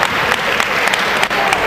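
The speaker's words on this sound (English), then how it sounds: "Crowd getting behind the Archangels here." A wrestling crowd claps and cheers at a loud, dense level, with steady applause and scattered whoops holding throughout the short burst.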